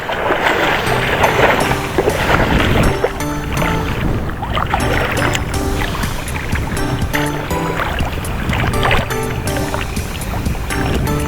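Small fishing boat out on choppy open sea on a reef, with continuous rough water slapping and churning around the hull, steady and loud throughout, no talking.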